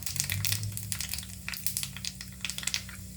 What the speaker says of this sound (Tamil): இப்போ கடுகு போட்டுடலாம். கடுகு பொரியுது.